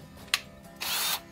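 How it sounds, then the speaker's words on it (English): A cordless drill fitted with a paddle bit whirs briefly in a workshop: a sharp short burst, then a louder sustained spin of about half a second, heard up close with no talking. "Our paddle drill and our cordless drill."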